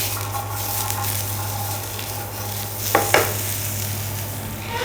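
Garlic and tomatoes frying in a hot pan give a steady soft sizzle, with a couple of brief scraping stirs near the end.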